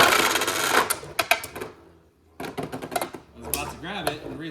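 Beyblade Burst tops spinning and clashing in a stadium, rapid metallic clicks and scraping bursts with a brief quiet gap, then more clattering as a voice talks over it.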